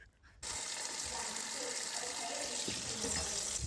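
Tap water runs steadily into a pan of arrowroot rhizomes, a broad continuous gush starting after a brief quiet moment and holding at an even level throughout.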